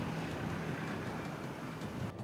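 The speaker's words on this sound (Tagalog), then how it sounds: "Pabaskog ang hangin kaghampak sang balod diri sa bahin sang Fort San Pedro sa Iloilo City." Strong wind rushes and waves break along the shore at Fort San Pedro in Iloilo City, a dense, steady roar of gusts and surf close to the microphone with no voices.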